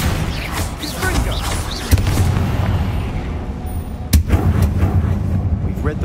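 Confringo fire spells bursting in Hogwarts Legacy, with two sharp blasts landing a couple of seconds apart over a dense, rumbling game soundscape and background music.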